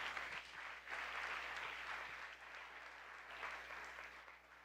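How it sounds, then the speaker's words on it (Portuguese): A church congregation applauds steadily for children, a dense wash of clapping from many hands that holds at an even, moderate level throughout, with no talking over it. "Você pode aplaudir a Jesus pela vida das crianças?"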